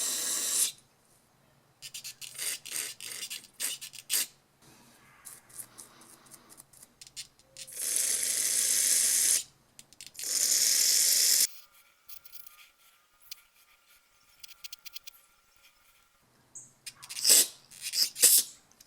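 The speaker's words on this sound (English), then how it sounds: "And then I like to blow out all these little ports." Bursts of compressed air blow through the small ports of a string trimmer carburetor, loud hissing blasts separated by quiet gaps, with faint handling noises between them.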